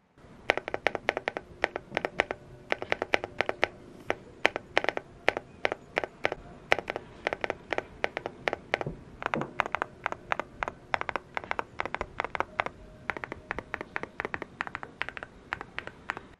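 Crisp, quiet keystrokes tap on an Epomaker Galaxy70 mechanical keyboard in uneven bursts, with short pauses between runs of typing, close up and soft.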